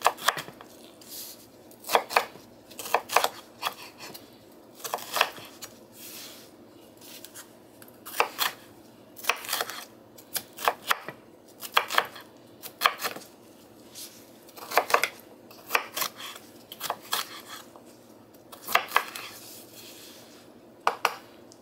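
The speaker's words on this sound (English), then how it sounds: "All I'm doing is just doing a kind of like a coarse chop in these." A knife coarsely chops peppers on a cutting board in repeated quick bursts of sharp taps, loud and close, pausing briefly between runs with no talk.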